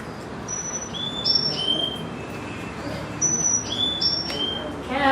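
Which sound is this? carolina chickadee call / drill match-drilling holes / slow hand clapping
carolina chickadee call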